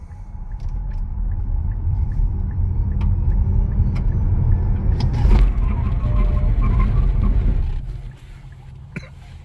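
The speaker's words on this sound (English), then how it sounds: "Do a quick 0 to 40 to 0 to show you nothing hiding the suspension under full acceleration and full ABS braking." Nissan Ariya electric SUV pulling a quick 0 to 40 run then full ABS braking, heard from inside as a loud rising road and tire rumble with whine that swells, then drops away abruptly as the vehicle stops.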